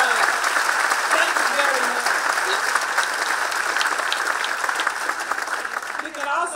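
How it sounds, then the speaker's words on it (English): A graduation ceremony audience claps steadily and loudly throughout, a dense, sustained wash of applause that tapers slightly at the close. "let's again give them a round of applause for all that they've done"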